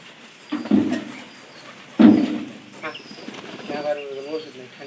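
Pigeons kept as pets coo in two low throaty bursts close by, with softer murmuring coos and light rustling between them.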